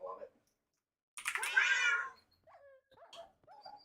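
Cats meowing and yowling in a modded video game, a long loud drawn-out caterwaul followed by several short, quieter meows, with a short voice at the very start.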